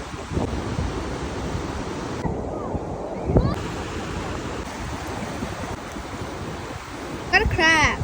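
Ocean surf rolls and washes onto a beach amid strong wind buffeting the microphone, a steady roar with a louder swell of surge toward the end.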